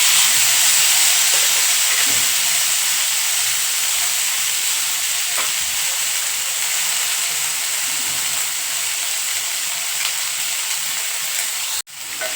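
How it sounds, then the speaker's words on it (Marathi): Sliced onion and tomato fry in a spoonful of oil in a pan, giving a steady, fairly loud sizzling hiss throughout, with a sharp clatter just before the end; no talking. "इथं पॅनमध्ये मी एक चमचा तेल घालून घेते आता त्यात आपण कांदा कापून घेतलाय उभा आणि टोमॅटो घालून"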